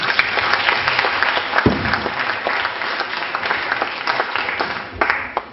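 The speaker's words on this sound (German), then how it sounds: "Für Sie einen Applaus bitte." An audience applauds a schoolteacher being introduced on stage, a full, continuous round of clapping from a crowd with a few louder close claps and thumps standing out.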